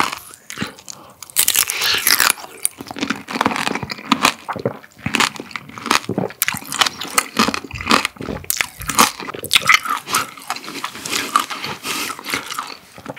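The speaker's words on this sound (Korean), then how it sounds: "자, 그럼 여기는 왕귤탕으로도 한번 먹어볼게요." Candied tangerine tanghulu bitten and chewed up close, with dense, loud sugar-shell crunches and cracks in quick bursts throughout, no talking.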